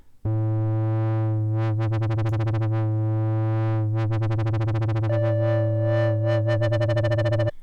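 An Arturia CS80V software synth holds a loud sustained tone with LFO modulation driven by polyphonic aftertouch, pulsing in a rapid rhythmic wobble, with a second higher note joining partway through.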